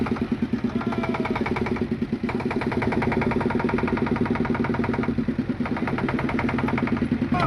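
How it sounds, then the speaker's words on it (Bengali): A motor boat engine chugs steadily and loudly at close range as the boat pulls away from a ghat on the river at Varanasi, its rhythmic mechanical throb continuous throughout with no voices. "এই আমাদের বোট চালু হলো এই আমরা দোসা সমেত ঘাট ছাড়লাম"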